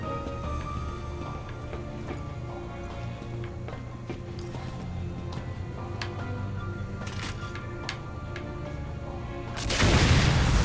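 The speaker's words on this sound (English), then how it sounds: "I was not expecting an explosion" Explosion in Resident Evil 6, a sudden loud broadband blast near the end after a stretch of busy in-game ambience with thumps and clattering steps.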